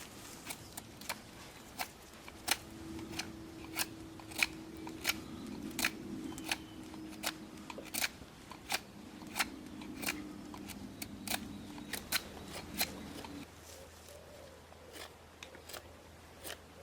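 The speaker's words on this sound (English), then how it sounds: "all the while essentially I'm making a cut and turning a piece of wood" Knife cuts into a wooden spindle being carved and turned for a friction fire set, a long run of sharp, regular scraping clicks spaced about half a second apart, close and alone.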